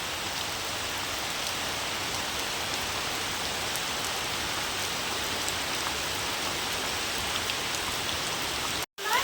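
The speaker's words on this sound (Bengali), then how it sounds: "দেখো বৃষ্টি আহা হা" Steady rain falls with a continuous, even hiss of drops striking surfaces, unbroken except for a momentary dropout near the end.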